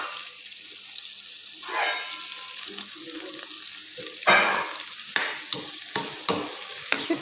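Dried fish (shutki) fries in a little oil, a soft steady sizzle with louder bursts and several sharp scrapes of a utensil against the pan.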